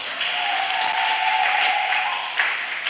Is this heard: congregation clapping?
yes